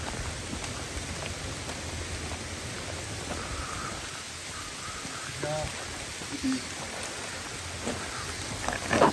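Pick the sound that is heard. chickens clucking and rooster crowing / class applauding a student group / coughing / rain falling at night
rain falling at night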